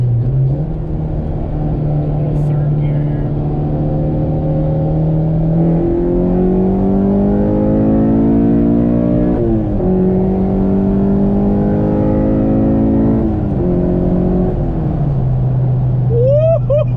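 Honda K24A four-cylinder engine revving in a car, a steady low idle climbing through several rising rev sweeps with drops between, then settling back to idle; close, loud and continuous with no talking.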